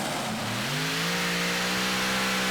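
A pulling tractor with four supercharged V8 engines at a show revs up, its steady loud roar climbing in pitch and then holding a high sustained drone, close and alone without talk.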